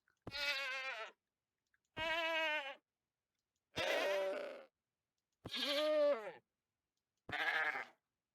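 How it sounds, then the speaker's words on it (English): Minecraft regular goat death sound taken from real goats, five separate loud bleats about a second each, evenly spaced with silence between them. "So this is the death sound for the regular goat dying."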